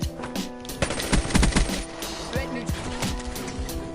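Rapid bursts of M16 rifle fire in a first-person shooter game, overlapping shots and loud cracks in a busy battle over roughly four seconds, with the crackle continuing under faint background game noise.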